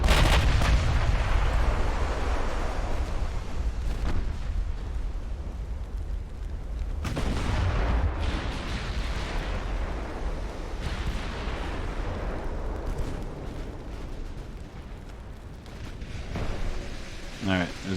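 Naval cruiser guns, including 9-inch guns, firing in the warship game Ultimate Admiral Dreadnoughts: heavy, rumbling booms that roll on in a continuous low roar, with a fresh loud blast partway through.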